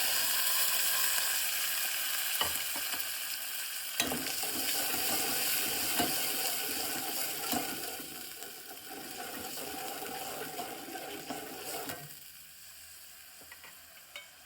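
Shelled papdi beans hit hot spiced oil tempering in a pan, giving a steady, dense sizzle that eases off toward the end, with no voices.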